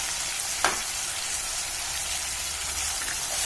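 Chopped tomato and green chilli sauté in a pan, a dense, even hiss of frying with one brief utensil knock early on.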